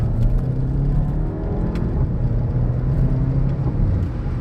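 A VW Golf 7.5 GTI under hard full-throttle acceleration gives a loud, steady low engine drone with a continuous whir, heard from inside the car.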